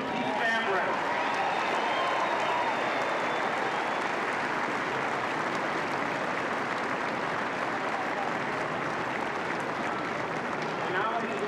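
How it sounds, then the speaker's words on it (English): A large tennis crowd at the 1994 Indian Wells semifinal applauds the players, a dense, steady wash of clapping that holds at an even level for over ten seconds with no pauses. "let's once again have a big round of applause for Stefan Edberg and Keith Bambrick"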